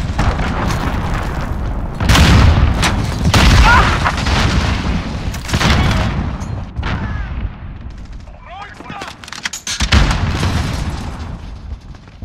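An allied cruise missile launch and explosions in a Call of Duty battle: heavy booms, artillery blasts and bursts of gunfire loud and near over a continuous roar, with voices heard through the chaos.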